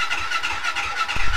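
A Yamaha Banshee engine cranking without catching, heard as a brief, rough, pulsing churn up close that ends in a slightly louder burst.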